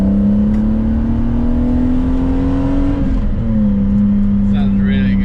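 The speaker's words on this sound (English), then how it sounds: "but this car sounds good" A 1980s–90s dream car's engine hums steadily, then its pitch drops as the revs settle, loud and close throughout.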